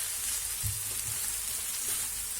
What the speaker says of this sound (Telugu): రైస్ మిక్స్ చేసి ఇదంతా ఒకసారి కలిపేసుకుందాం.